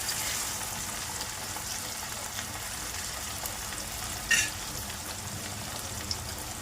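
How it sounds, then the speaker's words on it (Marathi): Tomatoes frying in a pan are stirred, producing a soft, steady hiss of sizzling with one brief clink of a utensil partway through. "आता त्यावर टॉमॅटो छान त्याची ढवळून घ्या"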